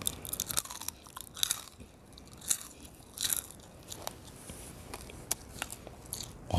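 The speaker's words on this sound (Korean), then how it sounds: "이 줄기도 수분이 다 빠졌기 때문에 바삭바삭합니다" Someone bites and chews freeze-dried weed stems and seed heads up close, sharp brittle crunches in irregular bursts between quieter chewing.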